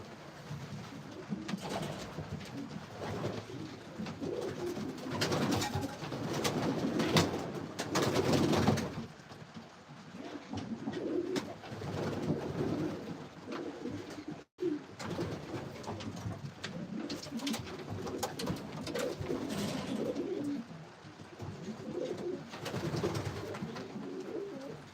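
A flock of about 40 to 45 racing pigeons coos steadily, many soft overlapping calls forming a continuous murmur with fluttering and shuffling throughout, fairly close.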